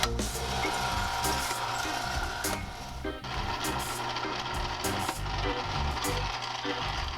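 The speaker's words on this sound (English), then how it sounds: "This is what's called a slow auger juicer, and in the slow auger juicer, it's just a grinding motion." An Omega slow auger juicer grinds Scotch Bonnet peppers with a continuous low mechanical churning, broken by irregular knocks and crunches as the peppers are crushed, steady throughout.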